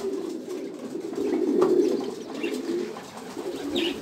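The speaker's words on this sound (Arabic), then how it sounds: "ها الحمام المتبقي." Pigeons coo nearby in low, throaty, repeated calls, rising and falling over a few seconds, with a faint chirp near the end and no voices.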